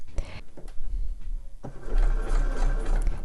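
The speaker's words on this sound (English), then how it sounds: "I'm going to do a 3x2 zigzag, and that will sew through the fleece lining" A sewing machine runs a 3x2 zigzag stitch through stretchy fleece slipper-boot lining, its motor whirring steadily and loudly at close range, pausing briefly before resuming at a faster, fuller pace.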